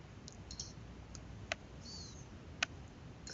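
Computer mouse clicks while a trade is set up on a trading platform, a few faint isolated clicks spaced apart over low background hiss.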